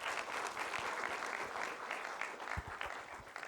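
A conference audience bursts into sustained, dense applause, many hands clapping together in a hall, holding steady before a few louder claps near the end.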